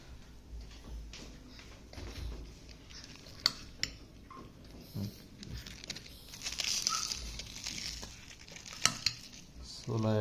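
Chickpeas being stirred into oil in a pan while making a puffed-rice iftar snack, with scattered scrapes, light metallic clinks and a soft sizzle, close by with occasional louder knocks.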